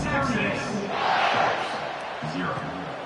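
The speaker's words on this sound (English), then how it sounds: "this crowd is buzzing after that last score" Stadium crowd noise in a college football simulation video game, a continuous buzzing roar with swells of cheering under a commentator's voice.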